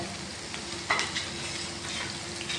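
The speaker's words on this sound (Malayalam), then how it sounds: "ഇത് നമുക്ക് അതിലേക്ക് അങ്ങ് ഇട്ട് കൊടുക്കാം ഇതിനെ അങ്ങ് വറുത്ത് ഒരു ചുമന്ന കളറാകുന്ന വരെ എടുക്കണം" Grated coconut frying in a pan for crab curry, with shallots and curry leaves, giving a soft, steady sizzle with light stirring scrapes and one brief sharper rattle, quiet and close.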